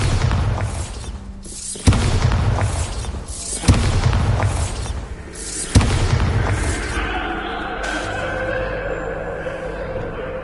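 Confringo and Bombarda spells explode in Hogwarts Legacy gameplay, three heavy booming blasts roughly two seconds apart, each with rumbling tails, followed by a softer magical shimmering tone.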